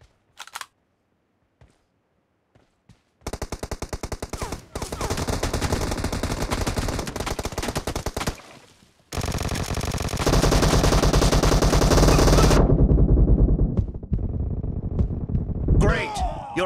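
Gunfire in the video game PUBG during a 4v4 team match: rapid automatic bursts from about 3 to 8 seconds, then a louder sustained volley from 9 to 12.5 seconds, loud and close, with voices speaking.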